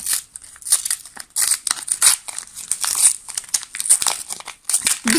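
Crinkly plastic and cardboard packaging being pulled and torn open, with repeated rustling bursts and sharp crackles close up.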